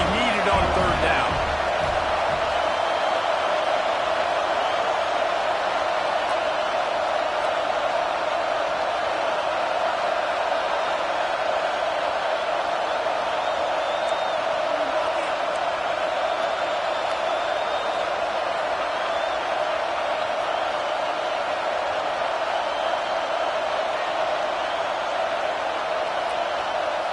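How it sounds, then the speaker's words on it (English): A packed stadium crowd roaring in the College Football 26 video game, a loud, steady wall of noise running throughout with no breaks. "And with this place rocking, the crowd forces a false start."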